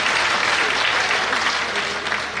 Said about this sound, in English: Can we clap hands for ourselves?